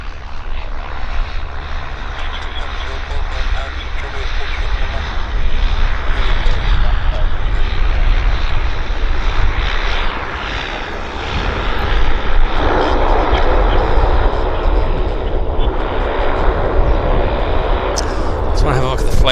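A small airliner, a Q400 turboprop, rolls along after landing at Vancouver airport, its engine and propeller roar loud, steady and close for the whole stretch, with a person talking over it.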